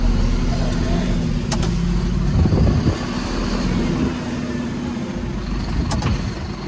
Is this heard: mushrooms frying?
no